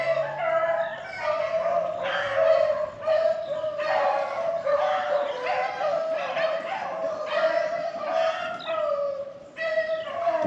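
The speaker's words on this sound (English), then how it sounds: "So the dogs is actually on the rabbit right here." Rabbit beagles baying while running a rabbit near an old graveyard, a chorus of high yelping and howling barks overlapping continuously at moderate distance.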